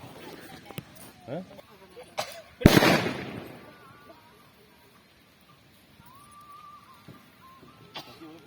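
A single loud firecracker bang bursts close by during a Mattu Pongal celebration in Tamil Nadu, preceded by a few sharper pops and followed by a fading rumble, with faint talk around it.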